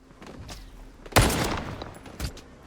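Enemy gunfire in STALKER 2 Heart of Chornobyl, a loud close shot cracking out after faint background activity, followed by a second, weaker report about a second later.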